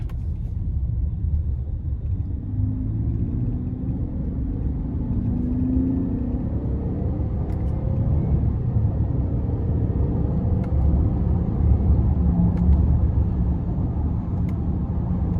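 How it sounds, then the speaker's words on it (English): A 2024 Buick Enclave Premium AWD with the 3.6 engine accelerating gently in low gear onto an interstate: a steady, loud interior engine and road rumble that swells slightly, with no talk. "I'm not gonna floor it getting on the interstate, but I'm gonna give it a little bit of gas"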